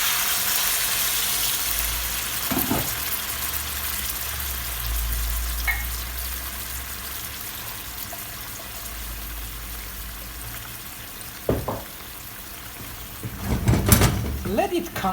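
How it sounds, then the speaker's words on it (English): A pot of chicken thighs keeps frying with a steady hiss, low rumbling bursts as boiling water is poured in, then clattering near the end and a voice briefly speaking. "I put a little bit of boiling water to it."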